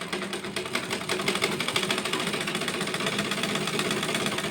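A sewing machine runs continuously, stitching seams on nighties at home, its steady fast mechanical chatter close and even throughout with no talk.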